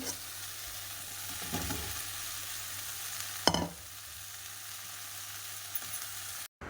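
Mushrooms sizzling in hot oil with a cooked-down spice masala, a steady close frying hiss broken by scraping stirs of a spoon in the pan.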